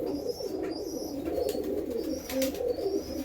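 Male pigeons of a closed-tail pet breed, some of them moulting, coo in a low, throaty, continuous murmur close by, with faint higher bird chirps flickering above.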